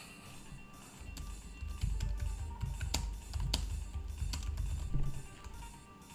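Typing on a computer keyboard, a run of close, quick irregular clicks over low background rumble.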